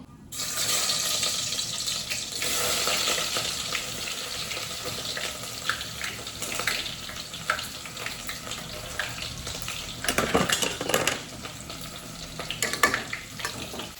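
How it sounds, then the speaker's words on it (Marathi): Onions roasting in a pan for biryani give a steady close hiss and sizzle, with occasional louder scrapes and clatters of stirring. "तर मी आता भाजतोय"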